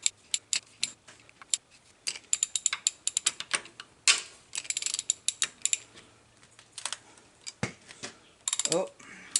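Rapid clicking of a ratchet wrench working loose bolts on a Farmall Cub tractor engine, coming in sharp bursts of metallic clicks with short pauses between, loud and close with no talking.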